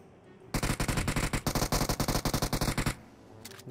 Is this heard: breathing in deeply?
no